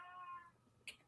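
A pet cat lets out a single short, faint meow, followed a moment later by a brief click.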